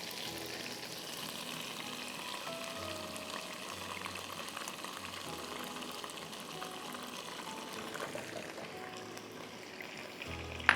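Sauce ingredients and chopped garlic sizzle in hot oil in a pan, a steady hissing fry with some bubbling, moderately quiet, with a brief clatter at the end.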